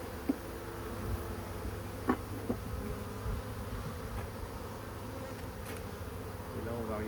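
Honeybees swarming around an open hive frame during an inspection, a steady, close, dense buzz that drones on throughout with a few faint knocks and handling sounds.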